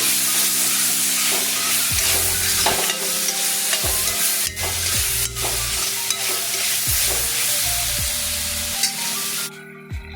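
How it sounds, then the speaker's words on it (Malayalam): Cauliflower fries in a wok with small tomatoes while a spoon stirs and scrapes. A close, constant sizzle is punctuated by repeated clinks and scrapes, with the frying cutting off near the end. "എല്ലാം കൂടി ഇളക്കി ബ്രൗൺ കളറാകുമ്പോൾ കോളിഫ്ലവർ ഫ്രൈ ചെയ്തിട്ട്"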